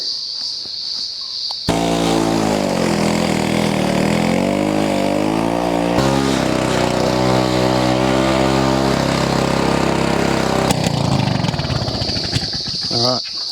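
A petrol lawn mower runs loudly up close while mowing a lawn, a steady engine drone that shifts pitch as the load changes, then cuts out near the end, leaving insect chirping.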